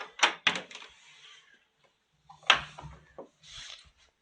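An old wooden church door is opened, giving a few knocking clunks and creaks in two bursts separated by a quiet gap, close and moderately loud.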